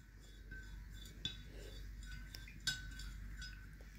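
A spoon stirs rose syrup in a kitchen vessel, giving a few sharp metallic clinks against the container over soft background noise, with no talking.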